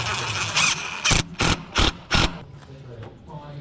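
A ratchet wrench tightens a fitting on a Subaru Impreza under rebuild, with a burst of four loud, close clicking strokes in quick rhythm followed by quieter mechanical handling.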